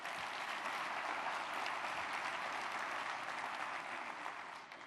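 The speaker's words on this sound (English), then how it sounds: "So let's give them a big round of applause." A convention audience at a lunch session applauds steadily in a large hall, a dense wash of clapping that holds at an even level and fades slightly at the end.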